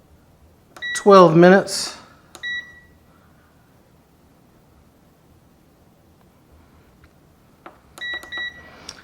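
Pressure cooker control panel giving a short run of electronic beeps, followed by a stretch of talking; more beeps sound near the end.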